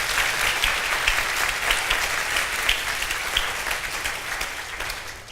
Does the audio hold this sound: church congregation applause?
yes